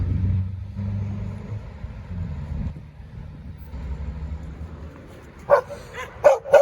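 Along a roadside in Muğla, Turkey, a dog lets out a few sharp barks near the end, heard over a low car-engine rumble that fills the earlier part.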